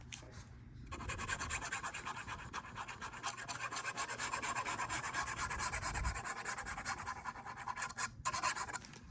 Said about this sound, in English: Fold it over, another nice burnish.